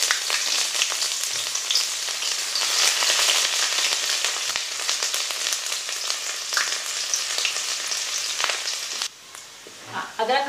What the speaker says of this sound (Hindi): फ्राई कर लेते हैं ताकि इसका कलर अच्छा चेंज हो जाए। अब इसमें अदरक का टुकड़ा भी डाल देते हैं।